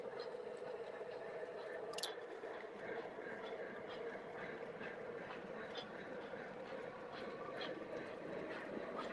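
MTH model train locomotives run together in a lash-up on two-rail track, giving a steady whirring hum with light rhythmic clicks and a brief squeal, faint and continuous.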